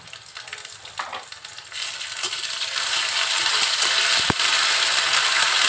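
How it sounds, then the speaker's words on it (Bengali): Garlic and ginger spice paste fries in hot oil for a fish and bitter gourd curry. A steady, close sizzle swells louder as it goes, with a brief clink of a stirring utensil. "তেলের সাথে খুব সুন্দর করে মশলাটা কষিয়ে নিব, যাতে মশলার কোনো কাঁচা গন্ধ না থাকে।"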